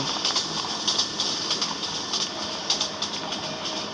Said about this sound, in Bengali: এই যে আমার পাশে দিয়ে একটা ট্রেন গেল